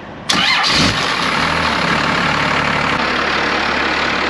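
The engine of a 1953 Kenworth bus cranks briefly and fires up close by, then settles into a loud, steady rumbling idle.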